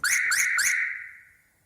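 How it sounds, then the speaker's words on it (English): Three quick electronic beeps from a car alarm warning that the bonnet is open, the last one ringing out and fading slowly, with no talking. "so this is multiple beeps"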